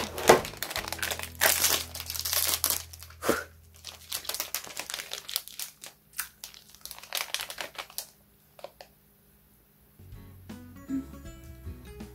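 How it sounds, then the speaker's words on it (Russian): A packet of Choco Pie snack cakes is torn and crinkled open in close, crackly plastic bursts, easing into sparse rustles and a short quiet gap before soft background tones return. "Открываем."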